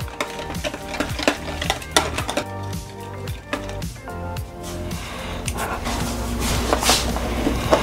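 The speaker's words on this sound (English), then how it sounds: "We're gonna give this a mix." Marinade for Peruvian chicken being stirred and mixed in a bowl, with busy clinking and scraping of utensil against the dish throughout, close and fairly loud.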